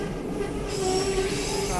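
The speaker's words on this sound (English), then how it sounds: "You can see the train there, right in the front." Railway cars on the Skagway line squeal along the track with a sustained, tonal metallic screech that carries steadily over a low rumble of rolling wheels for the full stretch.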